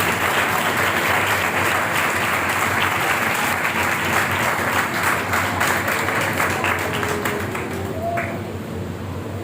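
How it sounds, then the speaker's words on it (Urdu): A church congregation applauds loudly and continuously for several seconds, thick massed clapping that thins slightly toward the end, with a voice briefly audible near the close. "آئیے زوردار تالیاں یسوع کے نام میں دیجیے۔"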